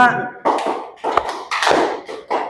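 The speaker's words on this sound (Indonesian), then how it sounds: "Nah, jadi irama ya. Ulangi lagi ya. Tepuk 1, tepuk 2, tepuk 3, tepuk 4" A teacher claps out a counted rhythm, several sharp hand claps spaced in groups with a voice counting between and over them, close and moderately loud.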